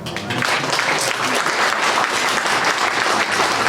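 Dense, steady applause from a carol concert audience in Chumiętki, Poland, for a young boy singer, filling the whole stretch at even strength without any speech.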